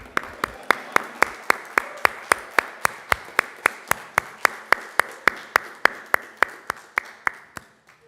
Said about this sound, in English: stand up for me, please. Face the camera, wave, cheer, thank those people.